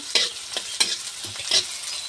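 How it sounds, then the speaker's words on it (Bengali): Onion and bay leaf frying lightly in a pan for a homemade Chinese-style vegetable dish, with soft hissing sizzle and several distinct spatula stirs scraping at a steady, unhurried rhythm, close and fairly quiet. "এটা হালকা ভেজে নিব পেঁয়াজটা"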